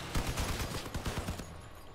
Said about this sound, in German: Oh, paar Schüsse und der ist hin, Leute.